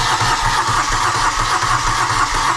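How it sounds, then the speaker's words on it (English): A Moto Guzzi Griso big block motorcycle engine cranks on its starter with the fuel pump disconnected, a rapid, even, rhythmic churning heard close up that keeps going without catching. "So try and start the bike up."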